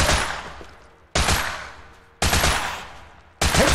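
Gunshots fired at monsters in the horror game Holstin, four loud close blasts spaced about a second apart, each followed by a long fading echo.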